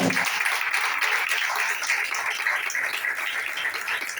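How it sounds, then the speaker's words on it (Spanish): Church congregation clapping to praise the Lord during a sermon on Christian marriage, a continuous wash of many hands clapping at moderate loudness, steady throughout. "Hágale fuerte las palmas al Señor."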